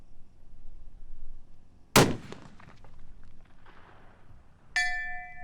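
A sharp rifle crack at a long-range shooting match is followed seconds later by a faint distant clang as the bullet strikes a steel target, then a ringing metallic tone near the end.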